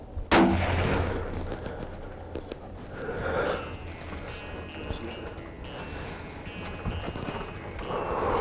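A single sharp rifle shot at a deer while hunting in South Texas, loud and close, followed by a long rolling echo and faint rustling outdoors with no talk.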